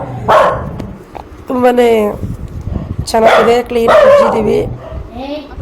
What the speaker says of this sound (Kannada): ನಮ್ಮ ಅಕ್ಕರ ಮನೆ ನಾಯಿ ಬೊಗಳ್ತಾ ಇದೆ.